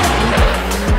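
Nissan S15 drift car on a track, engine roaring loud and close with tire noise, a continuous dense blast over one second.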